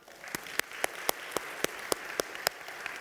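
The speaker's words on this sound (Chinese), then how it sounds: "我给掌声耶稣好吗" A congregation in church claps in a slow, even rhythm, about nine sharp, evenly spaced claps over a soft background murmur, with no talk.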